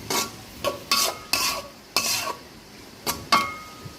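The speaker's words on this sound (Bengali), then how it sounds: "যেহেতু মাংসের পরিমাণ বেশি পেঁয়াজটা একটু বেশি নিলাম পেঁয়াজটা ভালো করে ভাজবো" A generous batch of onions, prepared for a Qurbani beef curry, scraped and stirred in a pan with a metal utensil: about eight short, clattering strokes over a faint background sizzle, close and fairly quiet.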